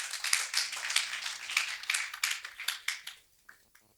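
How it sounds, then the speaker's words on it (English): Small audience clapping at a health workshop, a scattered handful of hands close by that thins out and stops, followed by a brief voice at the end. "Can we give her another round of applause, please?"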